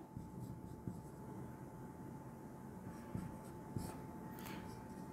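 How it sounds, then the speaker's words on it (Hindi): Pen scratching steadily on paper while notes are written during an isomerism chemistry lecture, soft and continuous with a few sharper taps, alongside a faint constant electrical hum and quiet room noise. "शॉर्ट में लिख देता हूं"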